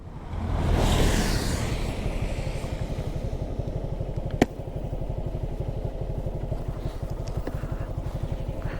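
A motorcycle engine runs at a steady idle with a fast, even throb on a rainy road stop during a bike tour from Bandarban to Cox's Bazar, near and loud, with rain hiss in the background and one sharp click midway.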